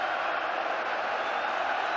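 Celtic supporters at a Rangers v Celtic football match applaud and cheer as a player leaves the field, a dense, steady stadium roar filling the whole stretch at moderate level.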